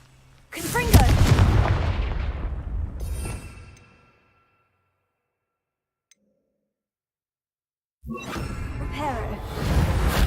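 Hogwarts Legacy Confringo fire spell blasts: a loud booming burst with whooshing fire that decays over a few seconds, then silence, followed by another dense burst of blast noise near the end.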